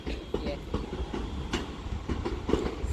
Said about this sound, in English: This is forming the 1333 London North Western Railway service to Stafford via Stoke-on-Trent.